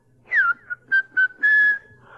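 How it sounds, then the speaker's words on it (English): A person whistles a short tune of five clear tones, a sliding opening note followed by brief pips and one longer held note, close and alone. "How do you whistle? How do you whistle? This is what you do."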